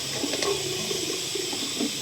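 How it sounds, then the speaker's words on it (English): Water runs steadily from an outdoor hose spigot, a continuous splashing wash with no talk, used to rinse a camera clean during cast iron work. "we are utilizing a little bit of the water from the hose spigot right here to keep our camera"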